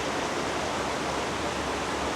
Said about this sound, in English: These waterfalls are so impressive.